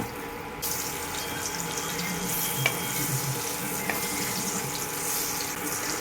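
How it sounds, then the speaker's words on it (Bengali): Chandramukhi potatoes fry in a pan on a gas stove with an even, close sizzle from start to end. A couple of faint clinks cut through, and no one speaks. "একদম কড়া করে আলুগুলো ভাজবো"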